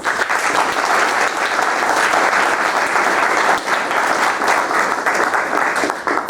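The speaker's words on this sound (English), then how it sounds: "Please give a round of applause for our speakers." A debate audience gives a loud, sustained round of applause for the speakers, dense clapping holding steady throughout with only slight dips.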